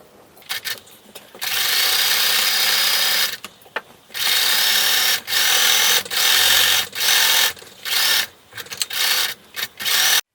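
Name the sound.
sewing machine stitching quilt layers together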